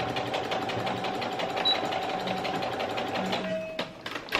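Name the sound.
sewing machine top stitching a bra strap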